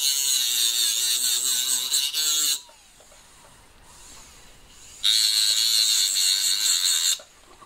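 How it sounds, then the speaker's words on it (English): A small stone cut-off disc on a rotary tool flattening a metal ring, a high whining grind in two loud bursts separated by a quieter pause where the tool spins down. "So I just want to flatten off using that little stone cut-off disc thing I used."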